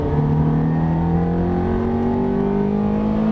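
Ferrari F430 engine pulling under throttle on a driving course, a loud, close, steady drone with its pitch rising smoothly as the revs climb.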